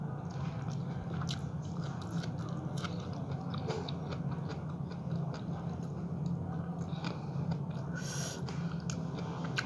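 Someone chewing and biting while eating cooked mushrooms, a steady close-up crunching and mastication that runs alone for the whole stretch against a low background hum, with no voice heard.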